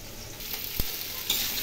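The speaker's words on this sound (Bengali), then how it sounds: "কুমড়ো ভাজা হয়ে গেছে" Pumpkin pieces fry in oil in a kadai with a soft, steady sizzle, broken by one sharp clack of a spatula midway and a brief scrape shortly after.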